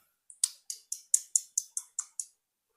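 A schoolgirl mimics a house lizard with a quick run of about ten sharp, dry tongue clicks at an even rhythm, close and fairly quiet, with nothing else audible.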